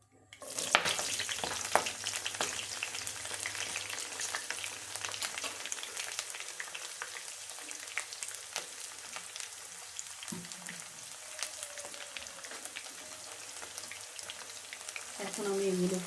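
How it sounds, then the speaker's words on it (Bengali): Chopped onion, garlic and chili fry in hot oil for a small-fish curry, a steady close crackling sizzle with occasional stirring scrapes, continuing alone throughout. "আমি গরম তেলের মধ্যে পেঁয়াজ কুচি, রসুন কুচি, মরিচ কুচিগুলো দিয়ে দেব।"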